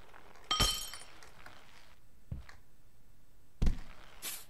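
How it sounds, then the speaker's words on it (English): Glass shatters in the Happy Wheels game, a sharp crash with a bright tinkling spray, followed by a few scattered smaller breaks and clinks spread over several seconds. "Alright, break glass,"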